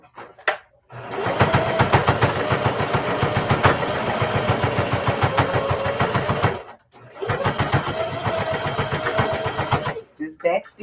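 A sewing machine backstitches the handles of a fabric handbag in two long, steady runs of rapid mechanical stitching separated by a short pause, close and fairly loud.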